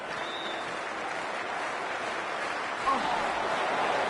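A stadium crowd in a cricket video game cheers and murmurs as a steady, fairly distant wash of noise before the first ball, with no speech.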